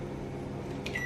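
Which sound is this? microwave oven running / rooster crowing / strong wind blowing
microwave oven running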